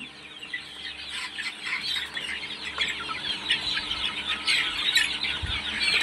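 Chickens on a farm cluck and squawk in a busy, overlapping chorus nearby, many birds calling at once and growing slightly louder toward the end.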